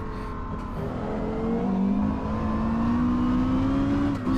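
A Porsche Carrera GT engine drones steadily while driving on cold tires, a smooth sustained tone that slowly rises in pitch as the car accelerates, loud and close with no talking.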